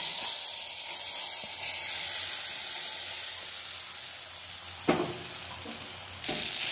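Chana dal tipped into hot oil with whole cumin and asafoetida, giving a steady bright sizzle and hiss throughout, with a couple of sharper clicks as the pan is stirred.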